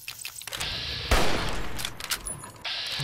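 A clattering burst of gunshots in the modded game Fallout New Vegas, a loud cluster of cracks around the middle, then scattered quieter shots and a hissing game ambience.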